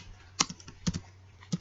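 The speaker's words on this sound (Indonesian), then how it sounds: "Lalu kita ketik nomor RM-nya" A few sharp key presses on a computer keyboard while patient record details are entered into a database, close and crisp with a low electrical hum underneath.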